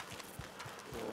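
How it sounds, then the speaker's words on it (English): Quiet hoofbeats of a horse in the Red Dead Redemption 2 video game, a few soft clip-clops spaced irregularly over a faint background. "Calm that damn horse down."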